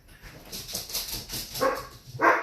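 Several dogs barking indoors, a run of quick, close yips and sharper barks in uneven bursts, growing louder toward the end.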